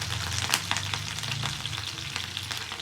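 Whole garlic cloves frying in hot oil in a pan while making tomato pachadi, a steady close sizzle broken by sharp spluttering pops.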